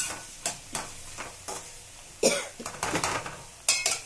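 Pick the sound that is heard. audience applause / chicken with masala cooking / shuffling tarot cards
chicken with masala cooking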